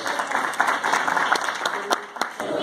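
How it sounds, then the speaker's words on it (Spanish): An audience at a Mexican cuisine festival in a hotel claps for the chef and his team, a dense, lively round of applause lasting a few seconds, close and bright, with faint voices beneath. "Yo como director del Departamento de Alimentos y Bebidas pido un aplauso para nuestro chef Carlos Alzate y todo su equipo."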